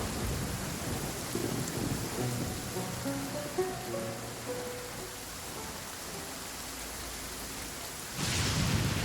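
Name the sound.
thunder and lightning storm in the video game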